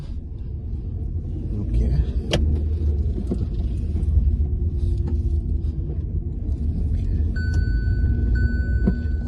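A car being driven gives a steady low road rumble and engine drone from inside the cabin, with occasional knocks and a few beeping tones near the end. Someone speaks briefly over it.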